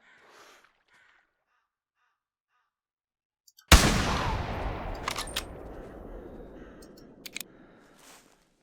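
Hunting rifle shot in the video game theHunter: Classic, one sharp loud blast out of near silence, followed by a long rumbling echo that fades slowly with faint ambient noises.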